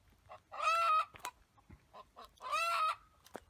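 Chickens from a white and blue-egg laying flock cluck and squawk in two loud drawn-out bursts, with scattered shorter clucks and sharp calls between them, close by and with no speech.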